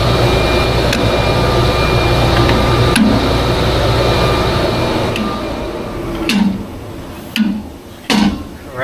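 A workshop dust collector runs as a loud, steady broadband roar, with a few sharp metallic knocks on top. It then drops off to a quieter hum broken by several short clunks and bursts of noise.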